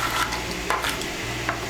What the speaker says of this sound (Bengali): বেগুন আর ডালের বড়িগুলোকে ভালো করে মিশিয়ে নেব।